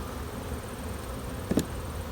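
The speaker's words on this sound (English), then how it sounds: "There's plenty of bees in the colony" Honey bees hum faintly in a hive colony, a soft steady drone with a brief louder burst near the end, no voices present.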